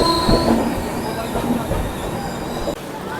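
At Durg Junction railway station, a train pulls in with a continuous close rumble and thin wheel squeal, plus a short knock near the end, heard alone at fairly high volume.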